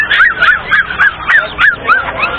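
Turkeys at a farm animal market, a rapid series of about eight loud, nasal honking calls in quick rhythm, close by.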